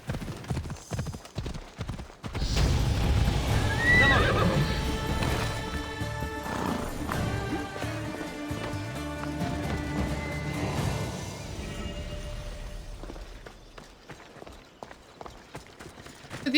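A horse in Assassin's Creed Odyssey clops along at a steady gallop with a neigh rising out of the hoofbeats, loud through the middle and thinning to scattered steps at the end.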